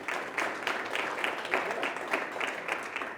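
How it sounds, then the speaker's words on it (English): A round of applause from the audience at a business networking event panel, steady and moderately quiet, with dense overlapping claps that continue evenly for a few seconds. "so let's give him a round of applause."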